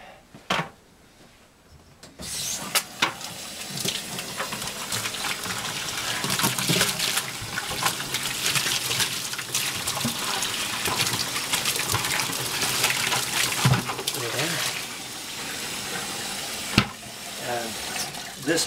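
Tap water gushes steadily into a winemaking bucket for rinsing, a close, splashy rush that starts after a quiet moment and carries on with sloshing variation.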